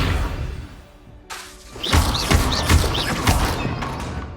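An Accio summoning spell cast in Hogwarts Legacy: a brief whoosh followed by a loud burst of magical impacts, thuds and shimmering chirps that crackle for a couple of seconds.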